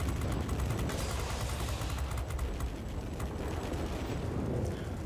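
Rapid machine-gun fire from an aircraft tail gunner in the World of Warplanes flight game, a dense rattling burst over a constant roar of engine and combat noise.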